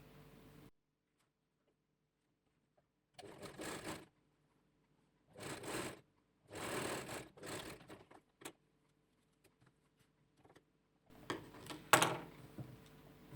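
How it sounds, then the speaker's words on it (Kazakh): A sewing machine stitching the front and back layers of a towel together, running in several short bursts of rapid mechanical whirring separated by silent pauses. "тігіп шығамыз."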